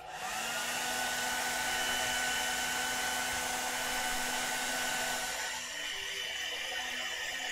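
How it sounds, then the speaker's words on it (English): A hair dryer whirs steadily at close range with a constant high-pitched hum, easing slightly near the end, no talking. "I'm gonna take my hair dryer real quick."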